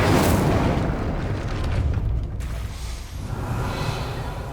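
An Incendio fire spell cast in Hogwarts Legacy bursts into a loud roaring whoosh of flame that rumbles on and tapers slightly before flaring again, with no voices.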